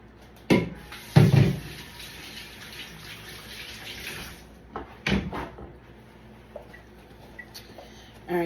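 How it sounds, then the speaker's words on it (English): A kitchen sink tap runs while hands are washed after handling raw meat, with splashing and several louder knocks and clunks along the way. Nobody talks. "I'm gonna wash my hands."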